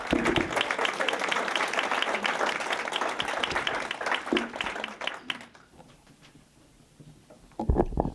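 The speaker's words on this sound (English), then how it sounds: "let's give the three panelists a big round of applause." Audience applause at a Forest Lake area chamber of commerce annual meeting for three panelists, a steady crowd clapping for about five seconds before fading to quiet, then a few voices.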